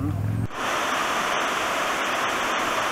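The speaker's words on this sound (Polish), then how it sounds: "Wodospad na Wisełce." The Wisełka stream's waterfall near Wisła Czarna roars as a dense, steady wash of falling water, close and constant after a brief opening moment.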